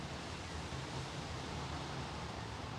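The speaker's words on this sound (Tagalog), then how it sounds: "Lumakas na naman yung hangin eh." Strong wind blows outdoors in Canada after a hailstorm, a dense, constant roaring hiss that fills the whole clip and steadily masks everything else.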